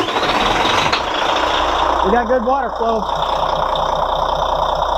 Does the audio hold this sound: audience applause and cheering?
no